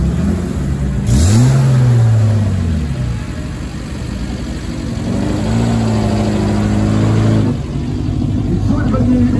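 Renault 5 classic race car engine accelerating, with rising revs sweeping up twice through gear changes, loud and close, fading between pulls.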